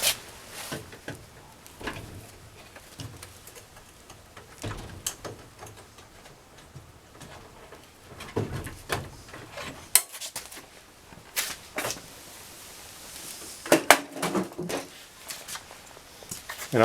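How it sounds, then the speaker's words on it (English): A front drawer is worked off a Husky 46-inch mobile workbench with repeated metallic clicks, rattles and knocks of sheet metal and slides, scattered and close throughout with no voices. "let's go ahead and take off the drawer on the front"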